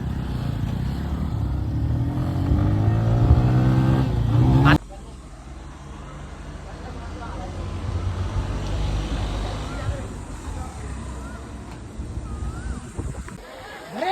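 A vehicle drives along with a low engine drone and wind rush. A strong tonal whine fades out before an abrupt drop to a quieter steady road rumble, with voices talking intermittently.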